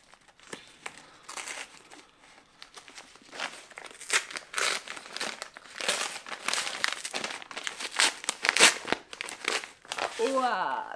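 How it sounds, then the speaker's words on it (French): Parcels being opened by hand, with packaging loudly crinkling, crumpling and tearing in repeated bursts close by for several seconds. "On est là pour ouvrir des colis, donc allons-y."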